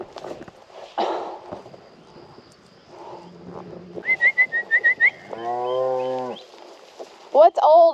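A cow on a farm moos loudly and close by in one long harmonic call, with scattered rustling and footsteps before it and a couple of sharp whistled calls at the end.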